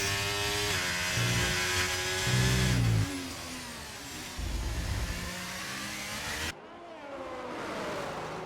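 Racing car engines roar on a flying lap at the Brazil round of a sim racing league, loud and sustained, with revs climbing through the gears and dropping at shifts before a quieter stretch near the end.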